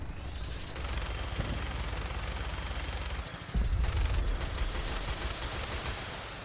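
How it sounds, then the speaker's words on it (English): Institute enemies in Fallout 4 fire sustained bursts of rapid gunfire, a dense crackling volley that stops briefly, then resumes with a heavier thump and continued rapid shots, loud and close. "Why is the Institute shooting at me?"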